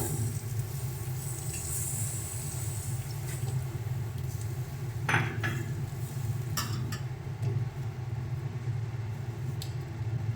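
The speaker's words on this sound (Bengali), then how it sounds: "জলটা দিয়ে ভালো করে মিশিয়ে নেব" A spoon stirs water into curry gravy for matar paneer in a pan: soft, steady swishing with a few faint scrapes against the metal, quiet and close.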